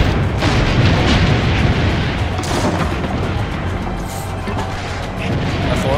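Cannon fire in the Assassin's Creed Brotherhood video game, a loud, dense stretch of booming blasts and crashing impacts that runs continuously through the clip with no pause.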